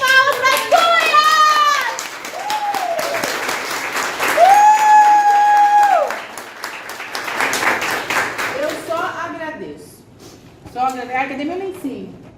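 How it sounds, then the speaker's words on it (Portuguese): Loud, sustained applause from an audience at a women's health panel event, many hands clapping densely while someone speaks and exclaims over it, fading near the end. "Uma salva de palmas para Cunha!"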